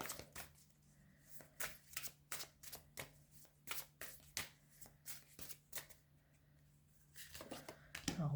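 Tarot cards being shuffled for a reading, close and crisp: rapid, repeated flicks and riffles in bursts over several seconds, fairly quiet, with no talking.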